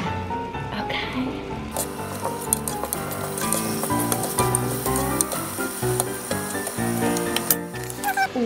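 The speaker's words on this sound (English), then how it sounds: "I'm just gonna use a spatula and continuously stir it" Food sizzles in a pan while a spatula stirs it continuously, the frying hiss sitting under loud background music.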